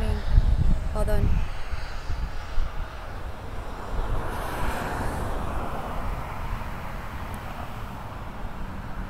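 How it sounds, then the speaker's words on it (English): A Delta airplane takes off at Los Angeles Airport, a broad distant jet engine roar that holds steady throughout, with a person talking over it near the start. "Alright, Delta's gonna take off right now, guys, because there's another plane coming."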